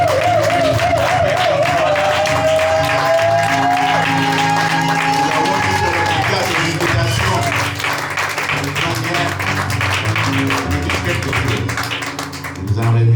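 A church congregation applauding and cheering, a dense, sustained wash of clapping under a held sung or instrumental tone, tapering slightly near the end.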